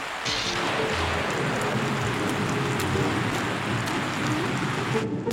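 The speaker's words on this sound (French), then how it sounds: "il pleut à verse" Heavy rain pouring down in a cartoon, a dense steady hiss of falling water with no voices over it.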